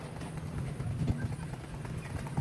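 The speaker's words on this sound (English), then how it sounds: "we were just following this horse and cart" A horse pulling a cart clip-clops along a town street lined with old shopfronts, its hoofbeats faint and steady under traffic and street noise.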